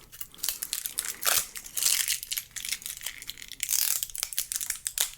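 DJI Phantom 4 Pro propeller blades are pulled from their packaging, with continuous close crinkling, crunching and tearing of plastic wrap in uneven bursts.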